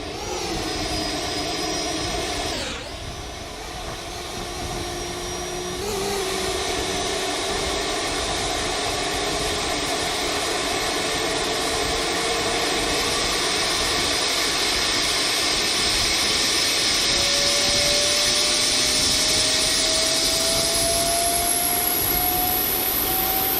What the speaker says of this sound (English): APU spooling up again.